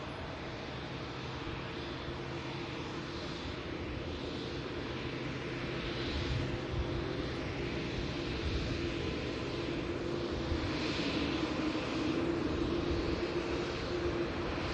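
Boeing 787 Dreamliner arriving at Manchester Airport on a short positioning flight from Glasgow, a continuous distant jet rumble and hiss that swells slightly midway, steady and alone without voices.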